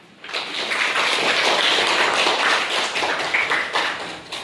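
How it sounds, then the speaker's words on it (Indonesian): A school class bursts into lively applause, many hands clapping together in a dense, sustained patter that swells and then tapers off. "Tepuk tangan."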